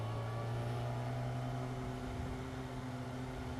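A Honda CBR 500R ABS motorcycle being ridden, its engine holding a steady, loud drone with strong low harmonics that dip slightly in pitch partway through, close and continuous with no talk.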